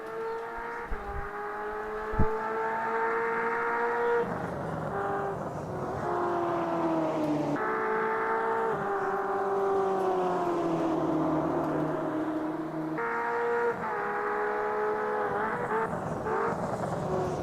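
Race cars in a sim racing game on the Spa circuit during a 6-hour endurance race: engines whine loud and close without a break, pitch climbing and falling with each gear change, and several cars blend into one droning roar.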